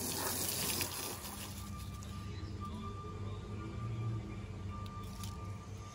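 Steady hiss of water spraying onto a pickup truck during a rinse before washing, a continuous close rush that holds level throughout with no talking.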